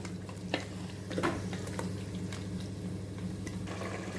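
Tomatoes sauté in a pan for mutton biryani, a quiet sizzle under occasional soft stirring clicks and scrapes with a faint steady hum.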